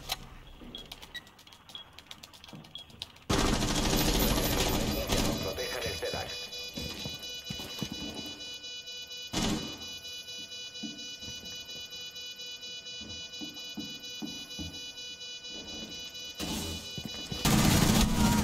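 Rifle gunfire in Rainbow Six Siege, a heavy-recoil rifle firing in loud sustained bursts after a quiet opening, with brief gaps and another burst near the end, mixed with game effects.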